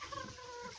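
A turkey hen on a ranch gobbles in one short, close, warbling call.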